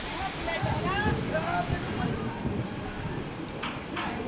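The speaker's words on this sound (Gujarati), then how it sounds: "તો ધોધમાર વરસાદમાં સુરતના હાલ બેહાલ બન્યા છે" Heavy monsoon rain pours down steadily in Surat, a dense hiss that continues throughout, with a voice briefly heard early on.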